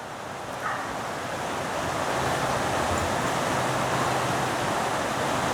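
River water rushes steadily where the river ends, a continuous broadband wash that swells slightly after the first two seconds, with some wind across the microphone and no talking.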